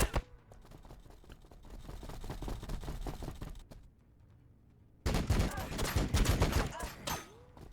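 Units in Warhammer 40000 Battlesector, Tau against Blood Angels, trade gunfire in rapid fusillades of crackling shots, a short lull in the middle, then a louder burst, with someone talking over it.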